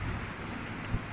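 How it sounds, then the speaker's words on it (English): A severe thunderstorm with high winds at a pumpkin patch: a brief, loud, steady rush of wind buffets the microphone, and no thunder stands out. "This is a pretty severe little storm."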